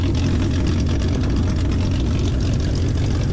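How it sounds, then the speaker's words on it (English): The engine of a 1948 Ford F1 mud truck with dual 3-inch exhaust pipes, idling close by in a loud, steady, deep rumbling drone. "And we got it jumped, as you can hear, it's running."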